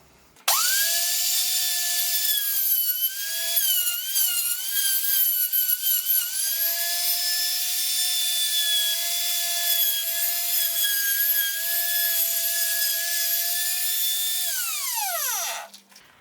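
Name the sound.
router cutting a circle in wood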